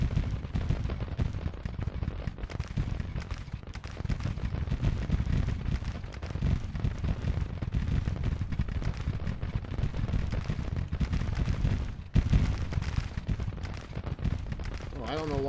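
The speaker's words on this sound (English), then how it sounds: "Preston is able to break Pleasanton, but is under direct fire from Wool." Distant rolling musket fire and artillery booms from a Civil War battle in the strategy game Grand Tactician crackle steadily and fairly faintly throughout, with a louder thump near the end.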